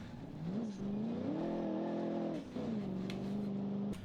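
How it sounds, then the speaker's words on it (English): A car in the BeamNG driving game, its suspension set to maximum stiffness with cut springs, hums along with a steady engine drone that rises and levels off, continuous and close with no talking. "hopefully you will notice right away what noises this car makes when driving around"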